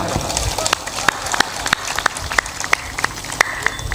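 Audience clapping at a Hindu religious discourse by a sant, scattered sharp claps standing out over a dense murmur of crowd noise, moderately loud and continuous through the moment.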